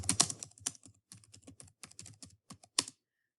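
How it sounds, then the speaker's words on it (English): Keys clatter on a computer keyboard as text goes into a box, a close, quiet burst of uneven taps with short pauses, ending abruptly after about three seconds. "So you'll type in the text box."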